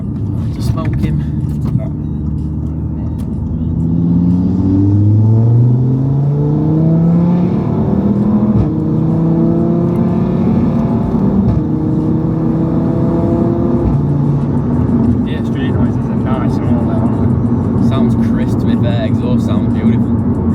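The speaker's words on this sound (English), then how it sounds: "Exhaust sounds beautiful, really nice." Audi RS3 8V fitted with a Milltek downpipe and Forge Motorsport intercooler, its exhaust rising in loud, steady revving pulls with climbing engine tones, heard close throughout with voices talking over it.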